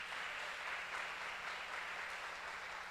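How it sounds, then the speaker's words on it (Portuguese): A church congregation claps together in steady, dense applause that holds at an even level throughout, with no voices standing out. "Dê um aplauso ao Senhor por essa mulher."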